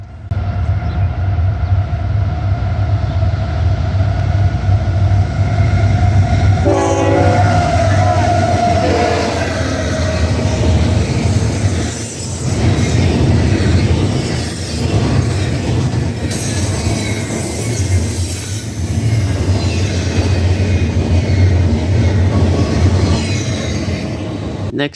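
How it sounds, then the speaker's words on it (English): A CSX eastbound intermodal freight train rolls past at close range, a loud continuous rumble of wheels and cars with brief squealing tones partway through, sustained for the whole stretch. "Next up, we have a CSX eastbound intermodal train."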